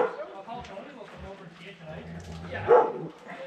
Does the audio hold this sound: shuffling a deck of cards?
no